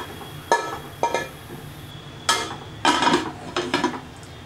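A metal lid set onto a pressure cooker with its gasket removed, giving several sharp clinks and clatters spread over a few seconds in a quiet kitchen, with no talk.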